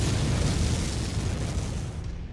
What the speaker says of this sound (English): I do like how spazzy I can just spray the LRMs.